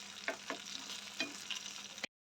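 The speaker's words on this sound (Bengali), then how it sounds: "দেখুন বেগুনটা আমাদের ফ্রাই হয়ে গেছে" Eggplant frying in white oil gives a soft, faint sizzle with a few quick spatula scrapes, cutting off abruptly after about two seconds.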